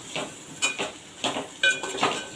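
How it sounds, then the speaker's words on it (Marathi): Ivy gourd being sautéed with spices and salt in a pan, stirred in a series of short scraping, clattering strokes over a faint sizzle, close and fairly loud, no voices. "आता एकदा परत परतून घेऊया."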